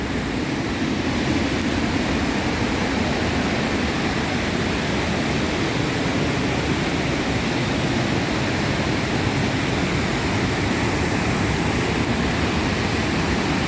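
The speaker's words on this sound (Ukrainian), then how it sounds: "Рішив спуститись до водоспаду." A waterfall in Yaremche sends out a steady, dense rush of water that holds at an even level from start to finish, with no voices heard over it.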